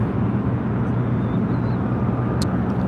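Steady broad roar of a United Airlines Boeing 757-200 taking off from the south side at LAX, a continuous loud rumble without talk.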